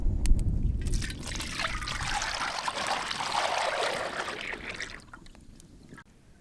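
Cooking oil poured in a steady trickle while making mirchi masala bonda, a close liquid stream that starts strong and gradually thins out before stopping, with no talk.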